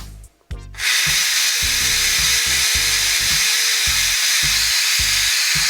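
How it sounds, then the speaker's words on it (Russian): Steam blasts loudly from the release valve of a multicooker set to pressure-cooker mode while plov cooks, a strong close hiss that bursts on after a brief pause and keeps going under a rhythmic low pulsing, with no talking. "Ну прям пар у нас фигачит."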